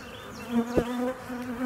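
Honey bees buzz in an open, healthy hive, a dense close drone with individual bees swelling louder as they pass, plus a brief knock of handling.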